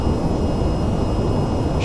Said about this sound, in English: We got a full afterburner.